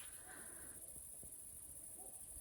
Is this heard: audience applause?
no